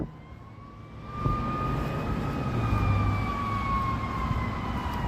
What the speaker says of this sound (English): We got some sirens.